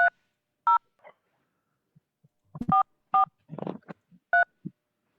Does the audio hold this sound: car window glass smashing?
no